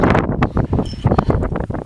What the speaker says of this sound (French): un autre bruit typique de l'endroit, c'est celui du vent